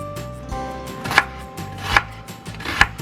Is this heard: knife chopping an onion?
yes